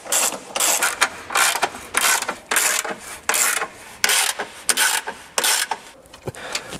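A hand tool tightens screws on an aluminium brace of a Porsche Panamera GTS, giving repeated close ratcheting clicks in short uneven bursts, steady and mechanical, with no talking.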